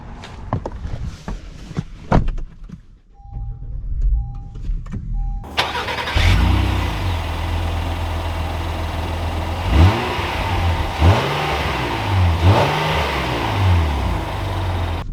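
A 2020 Acura MDX: soft clicks and a few short chime beeps, then the engine fires up and settles into a steady hum, and the revs rise and fall as it accelerates away, close and clear.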